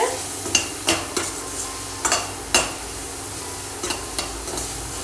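Turmeric powder is stirred into palak paneer in a frying pan: a soft sizzle runs throughout, broken by a series of sharp spoon scrapes and taps against the pan, close and without talk.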